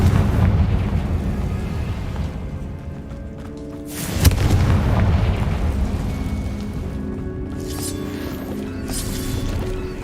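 A Confringo blasting spell explodes in the video game Hogwarts Legacy, a sharp, loud blast landing midway through a steady roaring rumble that carries on afterward.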